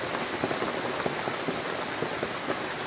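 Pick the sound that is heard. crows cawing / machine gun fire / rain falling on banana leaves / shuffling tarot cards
rain falling on banana leaves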